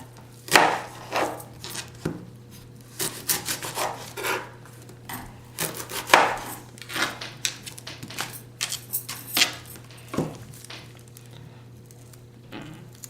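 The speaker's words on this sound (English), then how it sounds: "Cut the ends of the onion off." A knife chops the ends off an onion on a cutting board, close and distinct, with irregular sharp thuds and scraping strokes spread across a quiet background.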